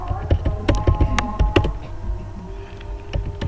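Fast, uneven typing on a computer keyboard while entering code, with a dense run of close, sharp key clicks that thins out toward the end.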